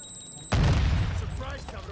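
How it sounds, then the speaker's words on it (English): A Semtex grenade in a video game goes off with one sudden heavy blast that booms and rumbles away over about a second and a half, following a thin high electronic tone. "Semtex incoming!"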